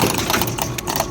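An HVAC unit's contactor chatters on low pressure from a refrigerant circuit restriction, giving a close, steady, rapid buzzing rattle of fast irregular clicks throughout.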